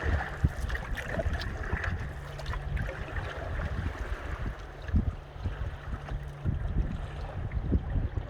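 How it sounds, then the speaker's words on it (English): Strong gusting wind buffets the microphone on Lake Alexandrina, a continuous rumbling roar with rushing noise over it, loud and close, no talking. "this wind is getting really strong now. It's whistling over the top of me."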